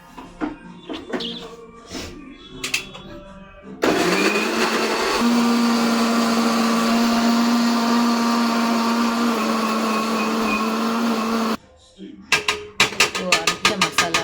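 A mixer grinder grinds masala and coriander for a Karnataka-style mutton curry, a loud steady whirring burst of about eight seconds, bracketed by clattering handling noises and someone talking before and after.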